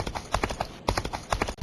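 Horse hooves clip-clop at a steady trotting rhythm in a western video game, close and unbroken, with no talk over them.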